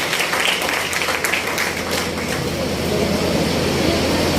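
An audience applauds the host at an RCM business gathering in a hall, giving dense, steady clapping that holds at an even, fairly loud level for several seconds with a faint murmur beneath.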